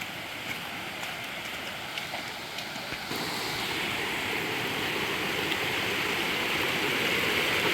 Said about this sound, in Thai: ตอนนี้มาถึงลำธารแล้วนะครับ